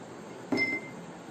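A stone is dropped into a glass beaker of water, giving one short, clear clink with a brief ringing tail in a quiet classroom demonstration.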